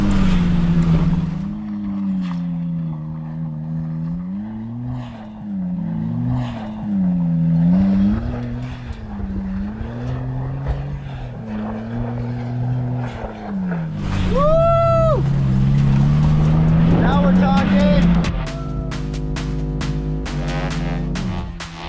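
A Suzuki Jimny JA11 with locked hubs, in four-wheel-drive low range and on new wheels and tires, drives off-road. The engine drones loudly and rises and falls steadily as the revs change, and rattles and clunks mark the end.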